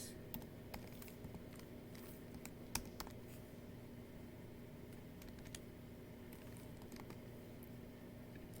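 Quiet, steady typing on a computer keyboard, with irregular soft clicks and occasional louder key taps continuing throughout.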